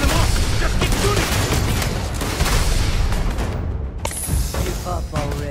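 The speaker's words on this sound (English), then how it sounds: "Just keep shooting!" Rapid bursts of gunfire from a firefight in the Starfield video game, dense and continuous at close range, with shouted voices mixed into the battle.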